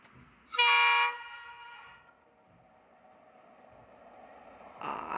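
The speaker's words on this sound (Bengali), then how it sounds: "তখনই ট্রেন ছাড়লো।" A train whistle sounds one loud, bright blast, then it fades into a low, quiet rumble as the train pulls away. A second short burst of noise comes near the end.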